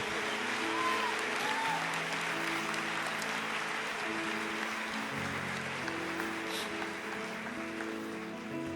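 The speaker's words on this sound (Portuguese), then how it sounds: "Aplauda a igreja, vamos lá." Sustained applause from a large church congregation fills the space, steady and moderately distant, with a held musical tone running underneath.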